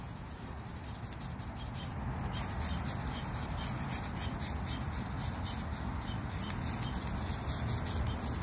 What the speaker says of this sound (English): Scrape it a little bit.